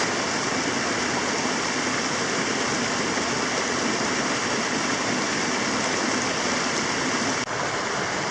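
A small waterfall cascades into a stream along a woodland trail, a steady, close, continuous rush of falling water with no pauses and no voices.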